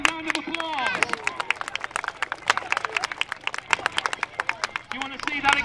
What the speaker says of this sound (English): Give us a quiet round of